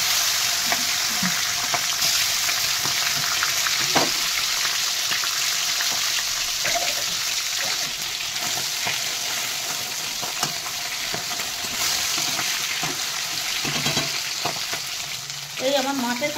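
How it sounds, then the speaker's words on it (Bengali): Bhetki fish bones coated in salt and turmeric fry in hot oil with a loud, dense, continuous sizzle. There are a few stirring clatters, and a louder scrape comes near the end. "তেল গরম হয়ে গেছে, এক এক করে কাঁটাগুলো দিয়ে ভেজে নেবো"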